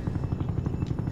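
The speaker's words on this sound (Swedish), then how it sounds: "Flygplanet kommer." Helicopter rotor chop from an aircraft approaching in a video game, a loud rapid pulsing thump heard close and alone.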